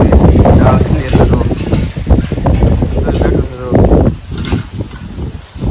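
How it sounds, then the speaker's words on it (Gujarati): Wind buffets the microphone in a steady, heavy rumble, with a voice talking over it throughout, beside a pigeon perched outdoors. "કેટલો પવન આવે"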